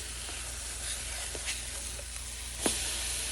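Flipped French toast sizzles steadily in a pan, a dense continuous hiss with a few light taps and one sharper clink near the end; no one talks.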